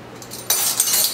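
A short clink of glass followed by a bright, steady splashing rush, like water running into a glass close by.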